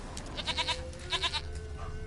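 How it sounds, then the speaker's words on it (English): Goat bleating in The Witcher 3 video game, several short wavering bleats in two bursts, moderately loud over a low steady game ambience. "Here, goat."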